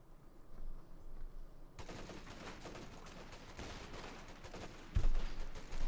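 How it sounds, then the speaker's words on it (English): Gunfire and explosions from the Company of Heroes 2 real-time strategy game, where double rifle grenades go off amid a steady rattle of small-arms fire and a sharp blast near the end, with no talk over it. "Double rifle grenades fire there."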